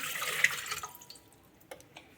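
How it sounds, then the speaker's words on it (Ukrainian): Water pours steadily into a pot for under a second, then stops, leaving a few drips and small clinks, while adding 400 g of water to 400 g of rice for sushi. "Спочатку беремо, заливаємо воду"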